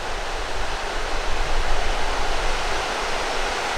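Water pours steadily over a small 1930s concrete dam on a Missouri creek, a dense, even rushing wash heard up close with no other sounds.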